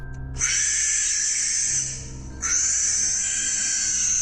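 Two long, harsh owl shrieks, loud and close, the second following after a brief dip.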